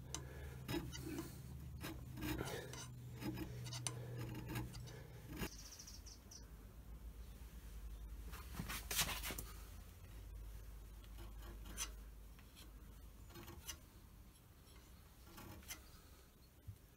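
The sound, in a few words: hand scraping metal machine ways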